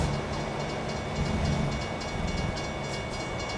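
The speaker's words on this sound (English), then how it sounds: "Here's our train." A train rumbles past with a steady low roar, fairly close and continuous, with no voices.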